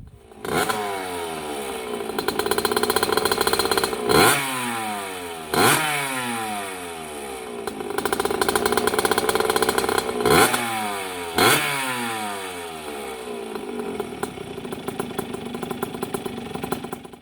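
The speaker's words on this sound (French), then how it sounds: "on va tout de suite démarrer une dernière fois pour vous cette moto" A 1983 Honda CR 50cc motorcycle engine runs close by, revving up and down repeatedly with rattling, buzzing two-stroke character between brief idles.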